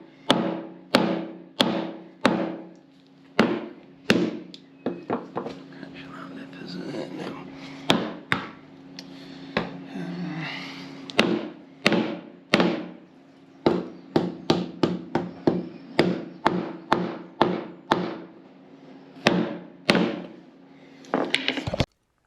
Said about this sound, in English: After a lot of hammering, I eventually got it back in the hole and level.